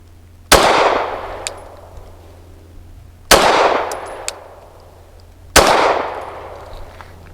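Three sharp 9mm shots from a Kimber R7 Mako carbon compact pistol firing Federal Syntech PCC 130 grain ammunition, spaced roughly three seconds apart, each a loud crack with a decaying ring-out over a low steady hum.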